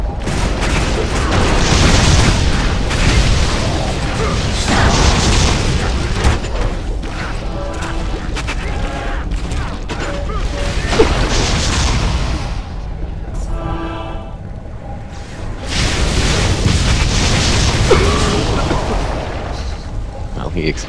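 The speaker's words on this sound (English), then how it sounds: "He exploded." Explosions and crashing blasts from the action game Torchlight 2, loud booms and impacts repeating across the stretch, with player voices talking over the game sounds throughout.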